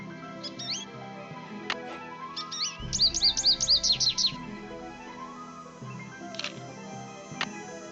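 Birds chirp in the Nancy Drew video game The Ghost Dogs of Moon Lake, with several bright tweets and a fast trilling burst in the middle, heard over a soft humming game ambience without talk.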